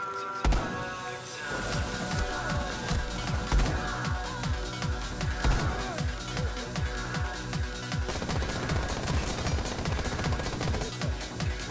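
Rapid bursts of automatic gunfire from the video game Rainbow Six Siege crack repeatedly in a dense, continuous rhythm over a busy game soundscape, fairly loud and close.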